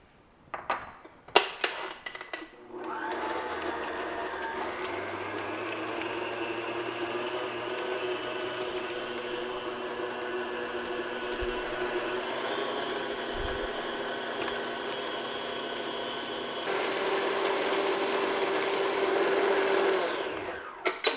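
Electric hand mixer beating an egg into German chocolate cake batter in a bowl, a steady whirring motor hum running for about eighteen seconds after a few opening clinks, close by and fairly quiet.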